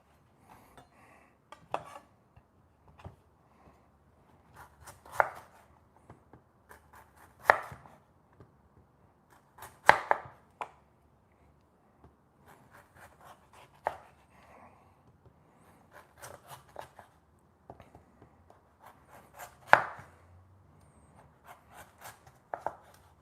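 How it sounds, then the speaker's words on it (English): A large knife chops through a piece of pumpkin on a board: sharp, close cuts land every few seconds with quiet gaps between them, and no voices are heard. "we want to cut up a piece of pumpkin"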